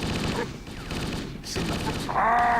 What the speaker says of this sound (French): Là, un petit fusil d'auto.